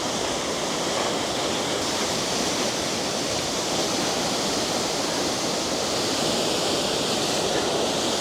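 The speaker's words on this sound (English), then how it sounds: "there is a proper waterfall raging here to the right hand side of me" A raging waterfall on the Eiger Trail in Switzerland roars as a dense, constant wash of rushing water, loud and close, without pause for the whole stretch.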